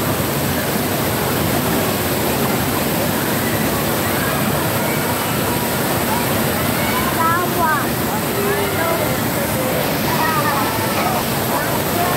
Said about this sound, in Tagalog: Lapit tayo sa falls